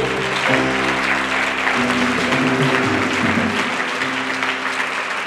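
A church congregation claps together at a worship service, a dense steady wash of applause with sustained music tones underneath, loud and continuous throughout.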